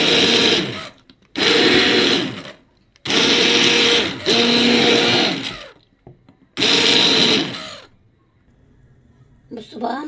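A hand blender purées cooked lentils in four loud, close whirring bursts separated by quiet pauses, followed by a brief rattle at the end.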